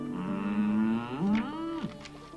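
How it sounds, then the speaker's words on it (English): A cow moos in long, low drawn-out calls, loud and close, with two or three rising and falling bellows and no talking. "the moo cow goes, mm."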